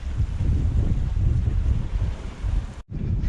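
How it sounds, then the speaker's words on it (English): Steady, loud wind roaring across the microphone aboard a sailing boat, with low rumbling gusts throughout and a brief dropout near the end, no voices. "we're getting a little bit of wind acceleration"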